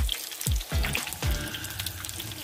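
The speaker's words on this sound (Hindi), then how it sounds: "इसी तरह बाकी भी ऑमलेट के स्लाइसिस को फ्राई कर लेना है। ये फ्राई हो रहे हैं" Fish omelette slices fry in a pan, a loud close sizzle broken by several low thuds and knocks as the pan is handled.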